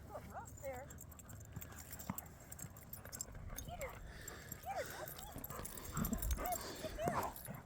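Dogs moving about outdoors on a farm with soft whimpers and yips scattered over a busy background, paws and rustling nearby, with a voice talking faintly underneath.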